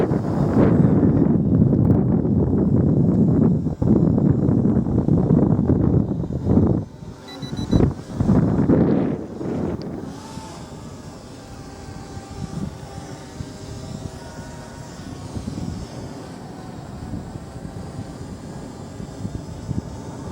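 A drone takes off and flies over Formby beach, its buzzing rotors loud at first under heavy wind noise, then fading to a fainter hum as it climbs away.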